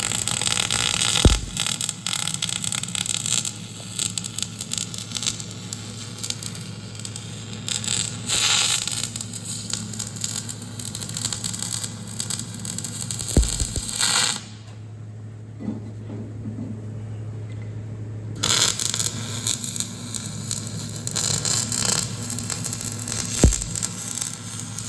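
A 4-inch pulley is arc welded, producing a steady, close crackling sizzle over a low electrical hum that runs continuously and breaks off for a few seconds before resuming, with no talking.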